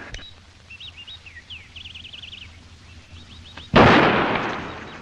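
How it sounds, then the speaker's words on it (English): A single loud pistol shot cracks in a duel, sudden and close with a long decaying rumble, after a few seconds of chirping birdsong. "Pistols."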